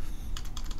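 A computer keyboard is tapped quickly while a command is entered in NMR data processing software, giving a short burst of about five crisp keystrokes close to the microphone with no voices.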